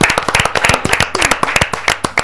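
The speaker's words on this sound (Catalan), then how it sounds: "Un aplaudiment, home, per als concursants d'avui" A short burst of TV quiz show audience applause for the contestants, many hands clapping loudly and continuously, close and lively.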